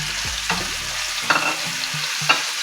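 Ginger-garlic paste and dry spices fry with tomatoes in a pan for spicy tawa kaleji, under a steady close sizzle broken by several sharp scraping stirs of a spatula.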